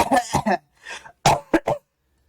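Someone coughs several times in close, harsh bursts, a cluster of rough coughs followed by a pause and a couple more short hacks, loud and near with no talking.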